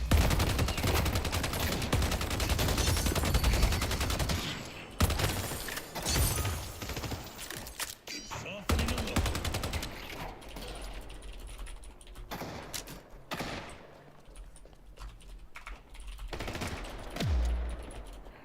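Sustained automatic gunfire in a Deadlock match hammers loudly at first, then breaks into irregular bursts, sharp single shots and impact thuds that grow sparser and quieter toward the end.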